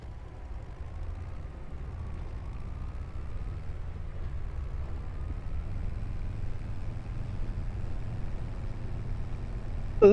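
Tractor engine in Farming Simulator 25 labouring steadily while towing a chaser bin, a low, continuous rumble that holds level throughout with no talk.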